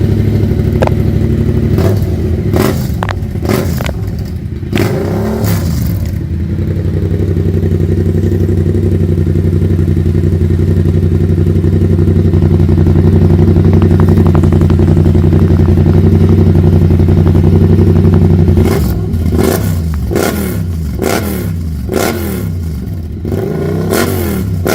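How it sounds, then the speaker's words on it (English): A motorcycle fitted with a new aftermarket exhaust revs loudly and close in a garage, a steady deep engine drone broken by sharp repeated throttle blips at the start and again near the end, with no talk. "Okay, you've put the new exhaust on."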